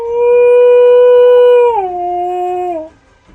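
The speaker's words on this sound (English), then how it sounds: "She bares her teeth, howling at the sky." A wolf howl from the video game Choices: Nightbound: one loud, sustained, clear tonal howl that holds steady, then drops in pitch partway through and fades out after about three seconds, with no other sound.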